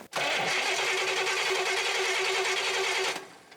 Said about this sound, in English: Let's go grind the starter some more.